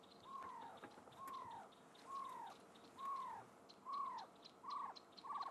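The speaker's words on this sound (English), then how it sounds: "So it was a barred owl." A barred owl repeats a faint, distant call about seven times in a steady rhythm, each a short downward-curving note over a noisy outdoor background.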